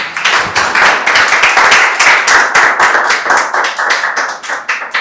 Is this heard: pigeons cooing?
no